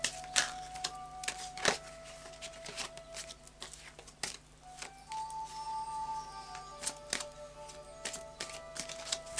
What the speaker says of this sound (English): And the final shuffle of the Oracle of Visions.